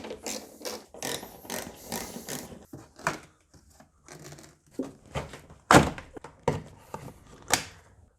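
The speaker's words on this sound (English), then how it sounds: "let's take out this cover because we're going to remove the battery" Ratcheting clicks, clunks and plastic thunks come from removing the battery cover under the bonnet of a Mini One Cooper D, in irregular bursts with short pauses between, close and moderately loud, with no talk.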